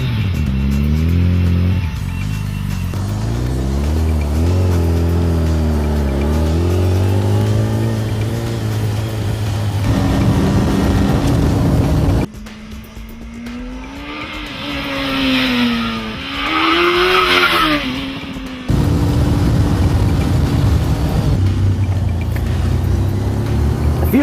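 A GG Quadster powered by a BMW K1200 motorcycle engine accelerates hard, its loud engine note climbing through repeated rising pitch sweeps with gear changes, heard up close and alone with wind noise.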